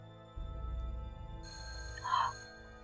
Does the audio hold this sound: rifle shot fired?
no